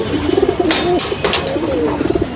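Foster pigeons coo close by in a soft, repeated rolling pattern of throaty notes. A few sharper rustles or flaps break in between the calls.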